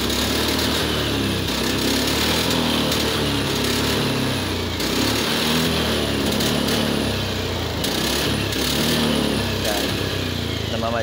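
Honda Beat fuel-injected scooter engine idling rough and misfiring, a loud, close, continuous buzzing drone with uneven stumbles throughout, with faint talk in the background.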